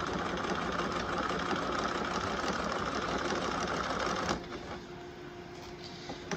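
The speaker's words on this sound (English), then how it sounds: "I'm gonna go from the very, very end, and I'm gonna stitch this. Just a regular stitch, making sure to back stitch." Sewing machine running a regular stitch along a hem on woven fabric, a steady fast mechanical whirr close by that stops abruptly, leaving a quieter hum.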